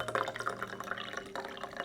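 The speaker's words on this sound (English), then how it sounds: "Can I pour this with one hand?" Chrysanthemum and rose tea trickles and drips from a small teapot into a cup, a light splashing pour carried on close and steady with no talking.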